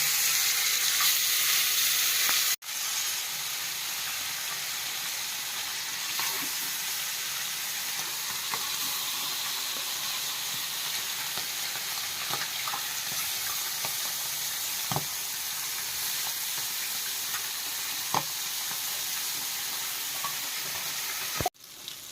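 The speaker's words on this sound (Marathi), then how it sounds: "तवा मस्त गरम झालेला आहे. आता ह्याच्यात मिरची टाकूया." Chillies and baby shark fish frying on a hot tawa give a steady, close sizzle with scattered crackles and pops, with no voices and an abrupt break early on.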